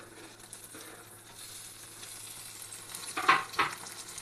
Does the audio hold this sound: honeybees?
no